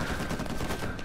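Rapid bursts of gunfire in the video game Uncharted 4, a dense continuous rattle of shots under a noisy game mix with no speech.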